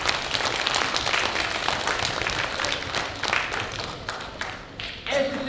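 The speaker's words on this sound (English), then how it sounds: "Can we give those people a round of applause?" A school assembly of Year 7 students claps for named classmates, a broad, crowded patter of many hands that runs continuously, with a voice briefly emerging near the end.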